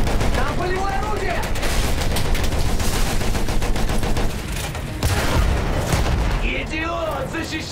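Dense, continuous gunfire and booming artillery from a World War I battlefield in the game Battlefield 1, loud and chaotic throughout, with shouted voices and whistling shells mixed into the din.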